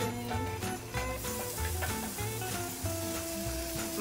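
Onions frying in butter on a stovetop hiss and sizzle steadily for a few seconds, with a strong musical backing playing over the cooking noise.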